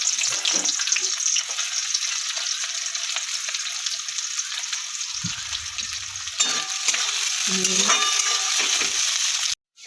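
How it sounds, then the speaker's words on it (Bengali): Loud, continuous sizzling of onions frying in hot oil, with occasional bubbling and spatter, ending abruptly. "এবার তেল গরম হয়ে গেছে পেঁয়াজগুলো দিয়ে দেবো"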